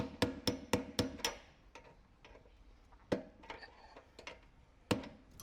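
Sharp metallic taps from a tool striking a kitchen garbage disposal, a quick run of five strikes followed by scattered, softer knocks and two louder isolated hits, close and alone.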